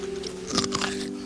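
Crisp bite into a stick of celery, a short crunchy snap with a little chewing, close and fairly quiet, with a faint exclamation at the end.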